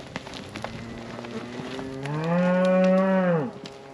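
A single long, loud moo from a cow in a pen rises and holds for over a second, close by, after a stretch of quieter shuffling and background noise.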